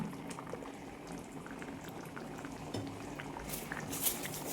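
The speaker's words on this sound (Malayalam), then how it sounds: "മീൻ ചേർത്തതിന് ശേഷം കറിയും തിളച്ച് വന്നിട്ടുണ്ട്." Pearl spot fish curry bubbling in a pan with thick coconut milk, a close, busy boil with soft popping bubbles and a brief clink near the end.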